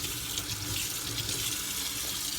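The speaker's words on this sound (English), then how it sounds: "salmonella all up on this possibly, so we're gonna wash that off" Steady running water from a kitchen tap as a fork is rinsed clean during cooking, a continuous close hiss and splash with no pauses and no talk.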